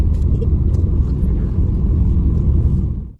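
Car driving on a road on the way to Dapoli, heard from inside the cabin as a loud, steady low rumble of engine and tyres that fades out at the very end, with no voices.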